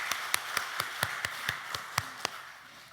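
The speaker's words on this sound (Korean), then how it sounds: "다시 한번 우리 찬양대를 위해서 감사의 박수 보내드리겠습니다." Clapping for a church choir in a Korean congregation, heard as about ten crisp, evenly spaced claps in a steady beat over a quiet room hum.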